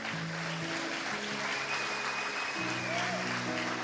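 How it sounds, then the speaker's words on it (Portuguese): Congregation at a church service applauding together, a steady wash of clapping that fills the space while a voice keeps speaking over it. "Pode aplaudir Jesus."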